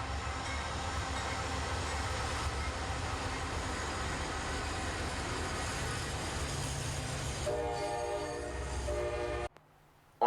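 Norfolk Southern freight train NS20Q, led by the NS 8100 Nickel Plate Road heritage unit with a BNSF locomotive trailing, roars past close by with steady rumbling wheels and a sustained horn blast before cutting off abruptly.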